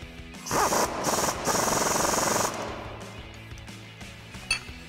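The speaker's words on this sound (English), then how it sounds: "we can take our 15 millimeter socket and wrench and tighten this down" A 15 mm socket and wrench tighten a sway bar end link on a 2007-2018 Silverado 1500 during a coil-over install, giving bursts of metallic ratcheting and clinks close by, with a few sharp taps toward the end.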